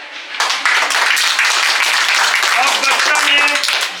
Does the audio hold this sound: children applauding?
yes